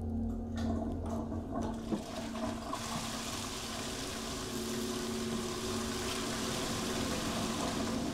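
A toilet flushes inside the horror game Fears to Fathom: Woodbury Getaway, a steady rushing of water that holds at a constant level for several seconds, close and alone with no talk over it.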